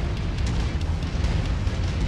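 A loud, rumbling boom with heavy low-end roar that fills the whole moment, an explosion in the video game MechWarrior 5: Mercenaries.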